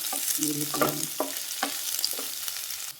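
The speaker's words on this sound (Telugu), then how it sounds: "ఉల్లిపాయలు వేసుకొని బాగా ఫ్రై చేయాలి" Onions frying for masala dosa potato curry crackle and sizzle close up, punctuated by a few scraping strokes of a stirring spoon, with no voices.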